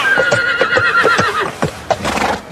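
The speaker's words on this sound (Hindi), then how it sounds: "मुझे तो घोड़ा दौड़ाना भी आता है, अभी दिखाता हूँ।" Horse neighing while being ridden, a long loud whinny over rhythmic clip-clop hoofbeats, close and continuous, with no talking.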